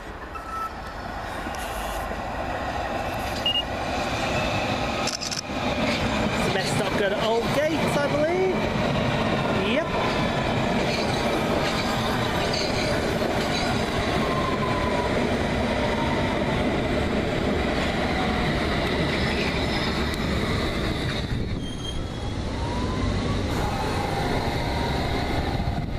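A Chiltern Railways Class 165 diesel multiple unit passes through a suburban station, a sustained rumble with rising engine drone and wheel noise that swells and fades over about 26 seconds, heard from the platform with faint background sounds.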